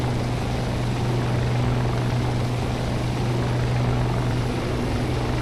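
A Shergood H-92 helicopter in a flight video game climbs slightly, giving a loud, constant rotor and engine drone with a steady low hum throughout and no talk.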